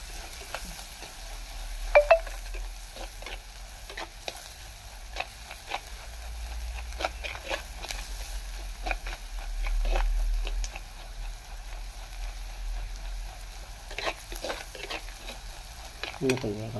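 Onion sautés in oil with turmeric and salt while a spoon stirs it, scraping and tapping against the pan over a continuous sizzle, with no one speaking.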